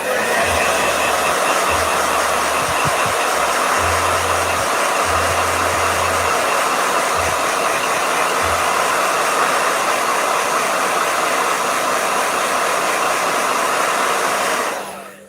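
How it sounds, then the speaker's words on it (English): A handheld blow dryer blasts air over wet watercolor paint, a loud continuous whirring roar held steady for about fifteen seconds before switching off at the end. "Doesn't the blow dryer make wet paint a mess?"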